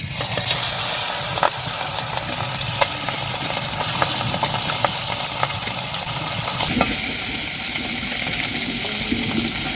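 Hot oil sizzles steadily in a frying pan as cooking continues, a dense close hiss with small crackles and occasional stirring clicks, no voices.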